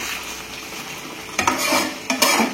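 Chicken browning in a large kadai, a steady sizzle broken by two bursts of spatula scraping and stirring against the pan near the end.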